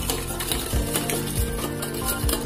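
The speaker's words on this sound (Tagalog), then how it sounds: "Mix natin." Chicken with broccoli and a little sugar being stirred in a pan, a spatula scraping and clanking against the metal in repeated strokes over a light background sizzle, close and loud with no talking.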